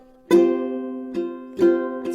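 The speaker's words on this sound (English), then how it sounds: "it's actually going to be more of a muted strum down." Two muted downstrokes on a ukulele sound alone and close, each a short percussive chord that sustains faintly. A lighter brush follows each one.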